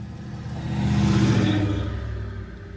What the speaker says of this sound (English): I'm outside right now, so I might hear some cars